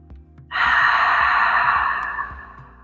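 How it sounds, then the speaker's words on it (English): A single slow, deep breath heard up close, a long airy exhale rushing out and fading gradually over a couple of seconds, alone without speech. "inhale through your nose and exhale through your mouth"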